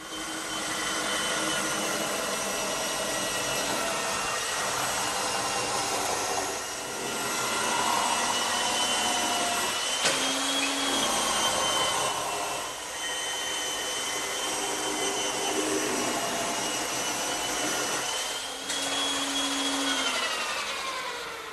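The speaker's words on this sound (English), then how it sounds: "when I set the blank over this, turn on the saw, and spin it around" A power saw cuts a circular wooden coffee tabletop blank as it is spun around on a jig, with a steady, loud whine that runs continuously and shifts pitch slightly as the blank turns.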